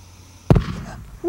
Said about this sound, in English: It's probably going to be a bigger bang.